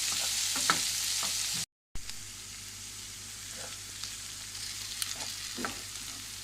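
Zucchini fries in oil in a pan on the stove with a steady, soft sizzle. A brief dropout cuts in early, then the frying continues with faint stirring clicks and no talking.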